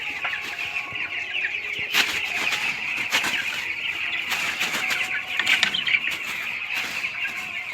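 Broiler chickens cluck continuously in a poultry shed while drinking water, a dense, steady chorus of high calls near the recorder with occasional bursts of wing flapping.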